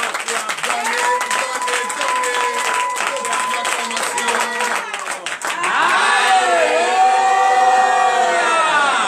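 A church congregation acclaims Jesus with loud, continuous cheering and clapping at a Friday night deliverance and prophecy service, a dense wash of voices and hands that swells higher toward the end.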